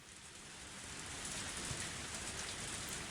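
Steady, heavy rain pours down in the Higurashi: Matsuribayashi visual novel game, a dense hiss that swells slightly after the first second and then holds constant and close, with no voices.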